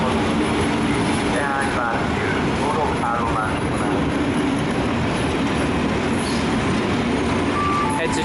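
Train noise at Budapest Nyugati station in summer, a steady loud rumble running the whole time with faint squealing tones, under a busy station hubbub and some distant talk.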